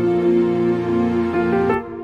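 Layered pop bridge with sustained synth pads, piano and sampled East West orchestral strings, a dense harmonic wash that swells and shifts chord near the end before cutting off abruptly.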